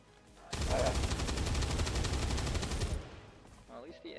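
Sustained automatic gunfire with bullet impacts in XCOM 2 Long War of the Chosen, a loud dense rattling burst lasting a few seconds before cutting off into quieter game sound.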